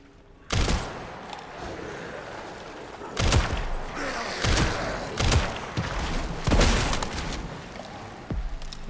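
Shotgun blasts in the dark survival horror game Resident Evil Requiem: several loud booming shots spaced irregularly over a few seconds, each followed by a brief rumbling tail, with no talk.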